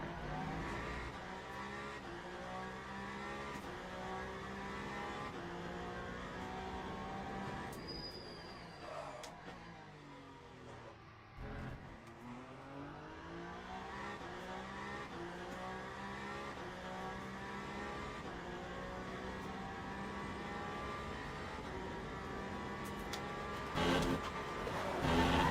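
Hypercar engine in the Le Mans Ultimate racing game at Spa, a sustained high-pitched whine that rises and falls through gear changes, dipping briefly under braking before climbing hard again, close and continuous.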